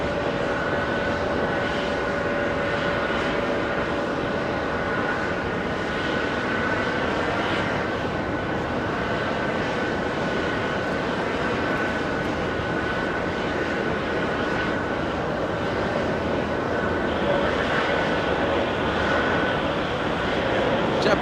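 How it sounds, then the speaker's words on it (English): A JetBlue Airbus A321neo takes off from runway 13 right at JFK, producing a sustained engine roar with a steady whining tone that holds at moderate loudness from start to finish. "Jetblue taking off, 13 right. Jetblue 1769, that's an A321 Neo."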